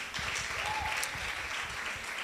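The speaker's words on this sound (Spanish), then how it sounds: "Denle un aplauso fuerte al Señor." Steady applause from a church congregation, dense and sustained clapping throughout, fairly loud and close.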